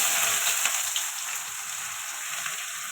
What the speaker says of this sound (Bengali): পেঁয়াজটা একটু ভেজে নেবো ভালো করে।